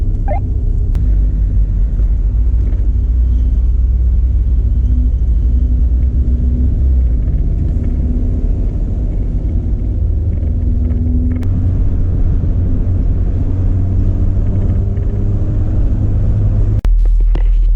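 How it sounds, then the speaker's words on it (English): A 1975 Lancia Beta Montecarlo heard from inside the car while driving, with a steady low engine rumble and road drone throughout and a brief change near the end. "So I am now in a 1975 Lancia Beta Montecarlo."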